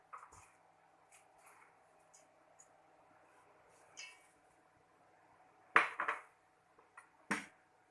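Carrot and green onions being tossed together by hand in a bowl for vegan kimchi, giving sparse soft clinks and rustles, with a few louder knocks near the end and no talking.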